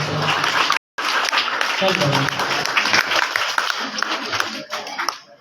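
An audience claps for a student who took first position in a competition at a Jamia Syed Ahmed campus prize ceremony. Dense, steady clapping runs under a voice, broken by one brief pause.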